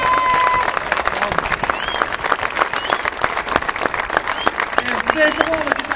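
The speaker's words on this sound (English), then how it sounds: "Big round of applause for Franny Stanton." An audience at an Independence Day event applauds loudly and continuously, dense clapping with a few cheers and voices mixed in, close and sustained.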